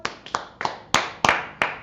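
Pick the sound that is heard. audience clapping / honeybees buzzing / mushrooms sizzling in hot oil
audience clapping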